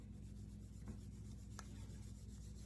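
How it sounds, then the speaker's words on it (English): Rosin being rubbed onto a violin bow for its first rosining, with a new cake chipping: faint, continuous scraping strokes, close by, with no voices. "the first rosinings take forever."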